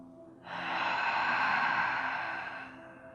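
A single long, full breath drawn audibly through the nose during a yoga plank pose, rising quickly and holding steady for a couple of seconds before fading, close and with no talking.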